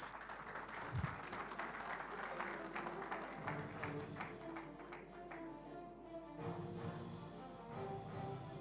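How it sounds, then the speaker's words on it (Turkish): Applause at a referee award night, a crowd clapping continuously throughout with scattered close hand claps, while a voice speaks faintly underneath. "Ankara bölgesinden uluslararası hakemimiz, alkışlarınız Armağan Darılmaz."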